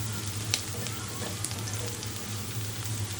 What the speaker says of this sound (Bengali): তাই আস্তে আস্তে নেড়ে আমি পেঁয়াজ বেরেস্তাটা সরিষা তেলে ভালো করে ভেজে নিব।